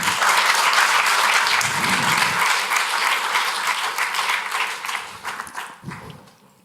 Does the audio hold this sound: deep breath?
no